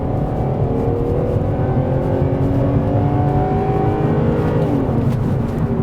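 A car accelerates hard with noticeable torque steer, its engine drone rising steadily and loud inside the cabin, with no talk over it.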